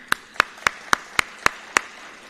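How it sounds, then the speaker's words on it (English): Seven crisp, evenly spaced hand claps ring out at a university robotics centre inauguration, each one a sharp separate snap with short pauses between and a quiet room behind. "big round of applause for them."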